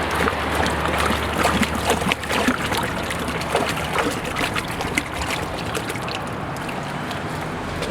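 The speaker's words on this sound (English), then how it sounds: "We can see the water is actually coming out of this bag and it's acting as a sieve and trapping the actual resin beads inside." Water drains and trickles steadily out of a mesh bag of spent DI resin beads, a continuous close wet rushing with small splashes throughout, no voices.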